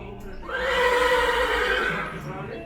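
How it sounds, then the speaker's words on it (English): An Arabian horse neighs nearby with a loud, sustained whinny lasting about a second and a half, over a low background and with a voice faintly beneath it. "his sons tend to his Arabian horses"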